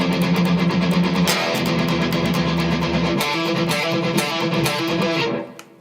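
Distorted electric guitar plays a song's bridge riff, struck power chords mixed with fast palm-muted low-string chugging, close and loud, ending with a quick fade and no talking.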